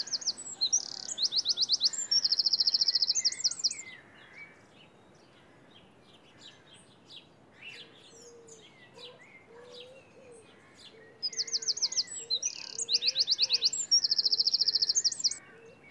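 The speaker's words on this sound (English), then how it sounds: "listen to the bird song for the dawn chorus" Birds sing in a dawn chorus: two bursts of bright, trilling song frame softer scattered chirps and a low cooing in between.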